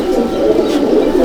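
Competition pigeons in a loft give a short, loud, close low coo that holds steadily for about a second.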